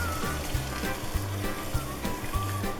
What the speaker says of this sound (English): this is at a full rolling boil